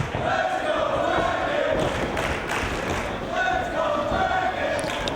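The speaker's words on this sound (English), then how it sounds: "Listen to that crowd." A large wrestling crowd roars steadily through a 2-out-of-3 falls match between Paul London and Bryan Danielson, a dense, continuous wash of cheering with swells of chanting and a commentator's voice running over it.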